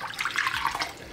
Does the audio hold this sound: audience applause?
no